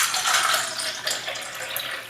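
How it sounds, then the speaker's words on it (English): Tap water pours briefly from a faucet into a cup holding a few drops of tea, a close, steady splashing stream lasting about two seconds with no voices. "let me do the tap water into the drops of tea"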